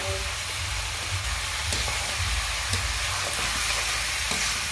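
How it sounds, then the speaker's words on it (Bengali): Chunks of duck meat fry in a pan with a loud, constant hissing sizzle, steady throughout with faint scattered pops and a low rumbling undertone. "মাংস ভালো করে ভেজে নিচ্ছি"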